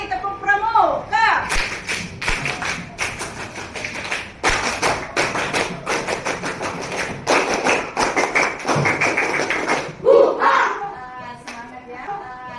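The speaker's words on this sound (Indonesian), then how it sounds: "3 kali tepuk pramuka." A primary school class performs the rhythmic Pramuka scout clap three times, many children clapping and thumping hands in a quick syncopated pattern, loud and close. A voice and an adult's voice are heard briefly around the clapping.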